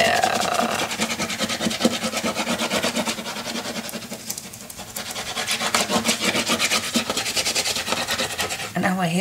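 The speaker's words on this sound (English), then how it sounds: "perhaps we can turn this down and burnish that glue everywhere." Glued paper being burnished on a La Traviata memory box kit: steady, close rubbing and rasping strokes that repeat continuously and fairly loudly, easing briefly in the middle before picking up again.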